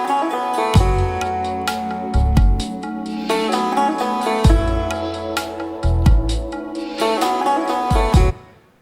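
The Indian version of Mastercard's sonic brand anthem, a rich melodic jingle with recurring deep bass accents under a shimmering layered tune, playing for about eight seconds before stopping.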